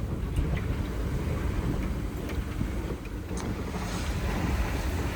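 Strong wind of over 20 knots buffets the microphone aboard a sailboat, with rushing water and hull noise underneath, continuous and loud with no talking.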